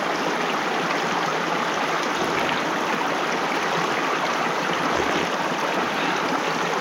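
A cold mountain stream near a high alpine meadow rushes and splashes steadily, a loud, close, continuous broadband wash of flowing water with no voices.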